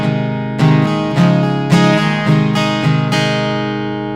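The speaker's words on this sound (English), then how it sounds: "my acoustic guitar, this is a Taylor 110E. It has an okay sounding piezo that sounds like this." Taylor 110E acoustic guitar played through its piezo pickup into a NUX Mighty 8 BT practice amp, with six bright strummed chords at a steady, even pace, close and clear with sustained ringing.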